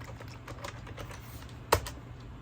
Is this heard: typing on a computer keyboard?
yes